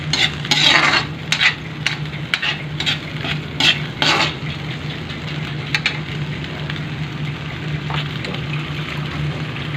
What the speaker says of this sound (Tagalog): Tapos igisa niyan, lalagay na yung papaya.